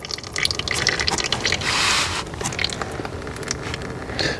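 Engine oil draining from a VW 2.0 TDI diesel engine, a close, continuous trickling and dripping of liquid with an irregular splattery rhythm and a brief louder gush partway through, no talking.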